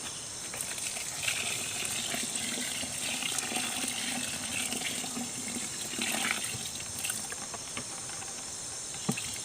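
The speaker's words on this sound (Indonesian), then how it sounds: "Dan kita tambahkan air sekitar 2 liter." About two liters of water being poured in to make liquid fish fertilizer, a steady splashing hiss that runs continuously at moderate loudness, close by, with no talking.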